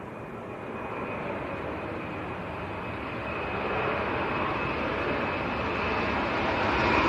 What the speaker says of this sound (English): Here we go, Ryanair to Girona.